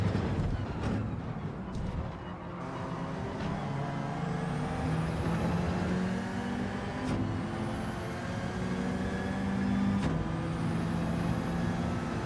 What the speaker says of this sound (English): Got that Subaru coming flying behind us with its nitrous that it has.